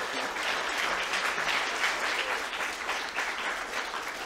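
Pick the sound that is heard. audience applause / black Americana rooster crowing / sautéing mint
audience applause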